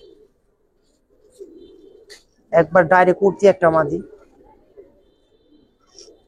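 Giribaz pigeons of an old Dhaka breed coo faintly in their loft, soft low murmurs drifting in before and after a stretch of close, loud talking.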